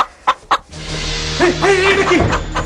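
A live chicken clucks in a few short, sharp bursts, then lets out a drawn-out squawk, fairly close, over a steady low background hum.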